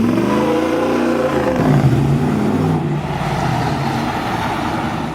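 A lifted Jeep Wrangler JK with a 6.4-litre Hemi V8 revs up close by, a deep throaty surge that settles back into a heavy rumbling idle.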